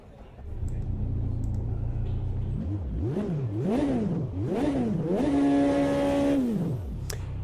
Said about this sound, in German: Das ist der Sound, glaube ich, von einem Auto aus der GT5-Kategorie